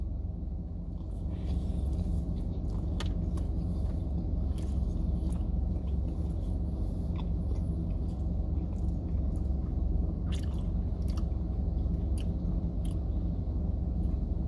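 Biting into and chewing a burrito up close, with repeated crunchy bites and wet chewing over a steady low rumbling background, like a car interior, for the whole stretch.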